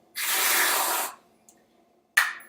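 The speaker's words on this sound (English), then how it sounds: "I put some whipped cream on top. I love the noise, so I'm just going to do a little bit." A sustained airy spray lasting about a second, then a short quiet gap and a second brief hissing burst, like whipped cream squirted from a can.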